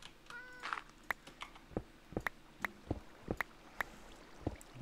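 Cat meows in the Minecraft video game, a short harmonic mew near the start followed by a run of sharp clicky game sound effects spaced through the rest of the clip, with no talking.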